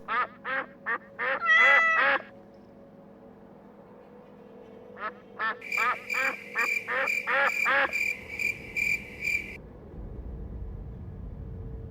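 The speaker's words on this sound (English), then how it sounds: "Stop with the ducks." Duck-quack sound effects play in rapid rhythmic bursts, a run of about eight quacks, a pause, then a longer dense series layered with a higher tone, over a low hum.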